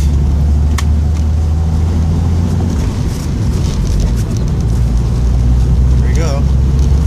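A 1970 Datsun 240Z with a turbocharged L28ET engine strains through a third-gear dyno pull, a loud, continuous mechanical roar with a deep, steady low drone for the full length.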